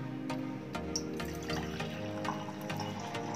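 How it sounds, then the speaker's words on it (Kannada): Ginger herbal decoction being poured into a glass bottle, a steady trickling stream with small splashes and rhythmic gurgles, close and fairly quiet with no voices. "ಈಗ ನಾನು ಆ ಕಷಾಯನ ಒಂದು ಗಾಜಿನ ಬಾಟಲ್ಗೆ ಹಾಕ್ತಾ ಇದ್ದೀನಿ."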